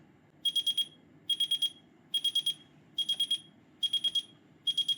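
The alarm of a Sheffield Home FINN multifunction LED desk lamp beeps in repeated bursts of four quick high electronic tones, evenly spaced, loud against a quiet background.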